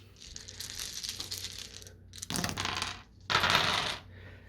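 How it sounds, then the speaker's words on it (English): Dice for a board game rattle and clatter across a table in three bursts, the first long and the next two shorter and sharper, close by with no talking. "So now we're going to roll dice for our powers."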